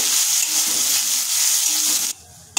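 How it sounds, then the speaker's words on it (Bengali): Grated coconut lightly frying in a pan with curry leaves gives a loud, even sizzling hiss that cuts off abruptly near the end, followed by a short quiet stretch and a brief knock, no speech. "এবার দিয়ে দিচ্ছি নারকেল কোড়া। এটা হচ্ছে হালকা করে ভেজে নেব"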